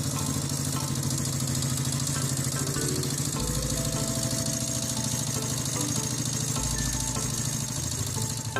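A vintage Honda CB motorcycle engine idles steadily at close range, a continuous even rumble that holds throughout, with no voices.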